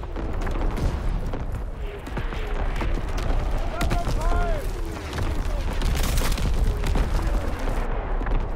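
Artillery battery fire in Call of Duty: WWII, a dense series of booming shots and crackling impacts over constant battlefield rumble, with radio-style voices talking over the barrage.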